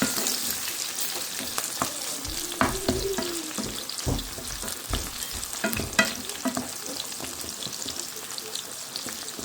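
Minced garlic frying in oil in a non-stick pan, a low crackling sizzle with scattered scrapes and taps of stirring, close up and without speech.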